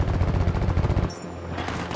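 Gunfire in Battlefield 5: a rapid, loud burst of shots for about a second, cut off into a short echoing tail with no talk.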